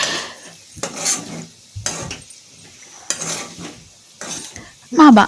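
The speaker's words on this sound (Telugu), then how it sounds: "ఇంకా అది వేసాక బాగా కలుపుకోవాలి." Moong dal and fenugreek leaf curry stirred in a pan, with repeated bursts of spoon scraping and clinking against the metal, close and fairly loud, separated by short quiet gaps, ending in a louder clatter.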